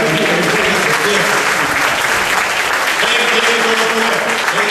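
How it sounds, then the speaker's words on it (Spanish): Church congregation applauding during a sermon, a loud, dense wall of clapping that holds steady and close throughout, with voices mixed in among the claps. "Aplaudan a él."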